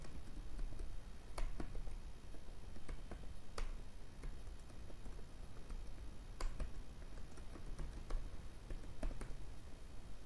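Boilerplate C code is typed on a computer keyboard, with quiet, irregular key clicks heard sparsely over a low background hum.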